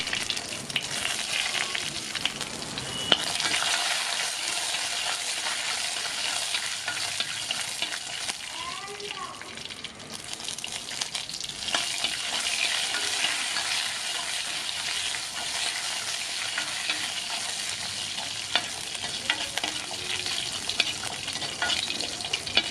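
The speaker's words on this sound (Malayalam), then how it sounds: "വെളിച്ചെണ്ണ ചൂടായി വരുമ്പോൾ നമുക്ക് കടുക് പൊട്ടിച്ച് ഇതിനകത്തേക്ക് വറ്റൽമുളകും കറിവേപ്പില ഇട്ട് കൊടുത്ത് നന്നായിട്ടൊന്ന് മൂപ്പിക്കാം." Mustard seeds, dried chillies and curry leaves frying in hot coconut oil give a loud, steady sizzle and crackle up close, with occasional spatters and stirring scrapes over about twenty seconds.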